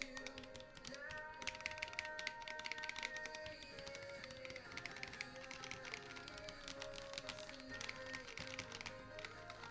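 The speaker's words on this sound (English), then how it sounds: "the good thing about 3D printed keyboards is that they sound really good" Typing on a 3D printed mechanical keyboard, faint continuous clacking keystrokes in an irregular rhythm over a soft background tone.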